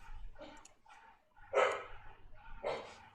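A caged female dog barks and yips to be let out, several short bursts with whimpering between them, moderately close but fairly quiet, with no talk over it.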